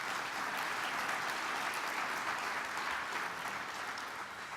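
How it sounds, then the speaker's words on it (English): Steady applause from an audience at a 40 Under 40 reception, many hands clapping evenly at moderate volume, sustained without pause throughout. "Please give a round of applause for the judges."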